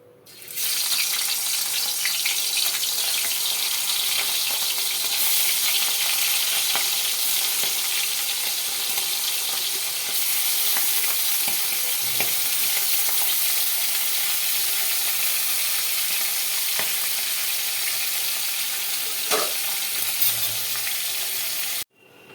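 Hilsa fish heads fry in hot oil with a loud, continuous sizzle up close, broken by occasional pops and spatters, then it cuts off at the end. No one speaks.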